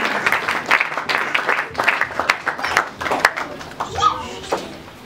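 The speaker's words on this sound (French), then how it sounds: "Nous acclamons très fort le roi de gloire." A church congregation claps and cheers during worship, a lively burst of scattered hand claps and voices that thins into sparser claps toward the end.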